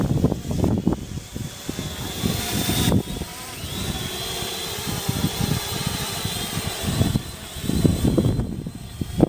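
Force One F200C Specter quadcopter drone in flight, its rotors giving a buzzing whine that surges and fades as it moves nearer and farther, with gusty outdoor noise and no talk.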